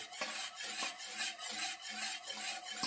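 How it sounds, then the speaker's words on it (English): Spoon scraping and rubbing around a pot of thickened simmering broth for a chicken cornbread casserole, a steady rasping, swishing rhythm with repeated strokes, fairly close, with no one talking. "Are you stirring that, William?"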